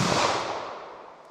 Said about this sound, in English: So I'll fire double action, see if I can make any hits, and then I'll try single action.